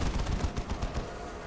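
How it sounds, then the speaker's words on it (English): Rapid gunfire and weapon launches from the Dawn of War strategy game, with Steel Legion and Chaos Space Marine units, form a dense crackling volley of overlapping shots that is moderately loud and carries no talk. "Opening fire, going for some missile launchers of their own."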